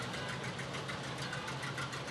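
A John Deere tractor engine idles steadily at close range in a county fair parade, with a continuous low rumbling chug and no voices.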